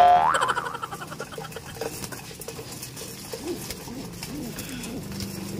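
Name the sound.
birds agitated at feeding time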